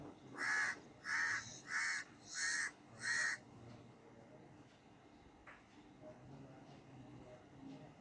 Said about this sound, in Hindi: कौवे की काँव काँव।